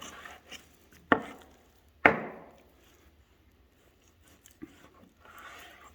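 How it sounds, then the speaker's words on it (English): A knife chopping pork ham into grinder-sized chunks on a board, two sharp close knocks about a second apart followed by a lighter tap and soft scraping, with no voices. "We'll square this ham up. Again, we will cut this into grinder friendly pieces."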